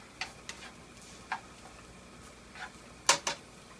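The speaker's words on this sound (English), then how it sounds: "When the olive oil is hot and when it's ready enough, then we simply add the onions, break" Onions in hot olive oil for a single-serving pasta Alfredo, a faint steady sizzle with scattered soft ticks and clicks of stirring, two sharper clinks near the end, no talk.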